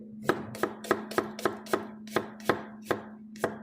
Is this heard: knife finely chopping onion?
yes